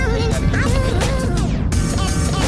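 A 2007 Honda Jazz GD3 fitted with a racing exhaust rumbles loudly up close, its deep idle swelling in brief revs before settling back.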